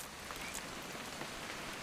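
Steady rain pours over the outdoors in What Remains of Edith Finch, a dense, even hiss of drops on surfaces that holds constant throughout with no voices.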